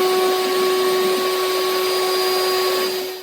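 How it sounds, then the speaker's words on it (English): A CNC router cutting with a dust extractor running in a workshop, making a shoe horn: a loud, steady whine with bright sustained tones over broad airy roar, continuous until it winds down at the very end. "I'm going to start the router and the extractor and then send the file."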